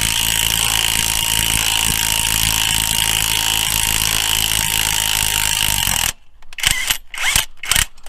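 An impact or power tool buzzes loudly and continuously, running a bolt into a crankshaft pulley puller on a 3800 engine. It then cuts out into sparse clicks and short bursts.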